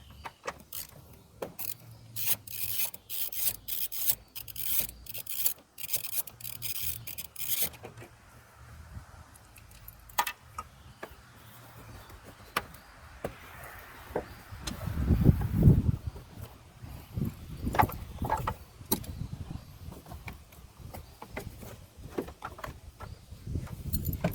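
A 12 mm bolt is worked loose from the hybrid battery cover of a 2010–2015 Toyota Prius, heard as scattered metallic ratcheting clicks and clunks with some scraping and handling of parts, close and without talk.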